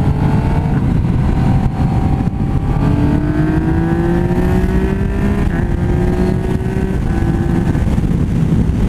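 Motorcycle engine revving hard through quick upshifts with a quickshifter, loud and continuous, pitch climbing then dropping with each gear change.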